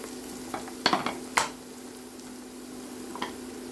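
Onion and garlic frying in a pan until brown, a low steady sizzle broken by a few sharp stirring clicks and scrapes near the start, close and fairly quiet, no speech.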